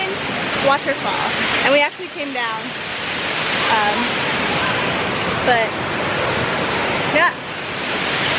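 A waterfall on a Kaua'i hike pours in a loud, unbroken broadband roar, while people talk briefly over the rushing water.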